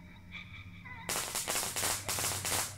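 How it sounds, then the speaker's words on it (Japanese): A firecracker thrown in the horror game Shadow Corridor goes off as a loud run of sharp crackling pops lasting a couple of seconds, bursting in suddenly after a quiet, humming stretch. "こうやって爆竹を投げてあげれば"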